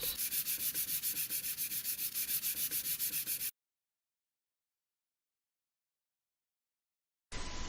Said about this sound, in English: So we'll do that with 40 grit sandpaper.